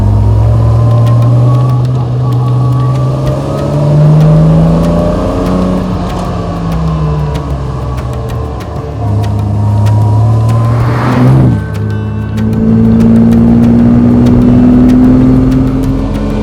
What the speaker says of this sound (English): We're in the car with the same pistons, the same valves, the same crankshaft as was originally put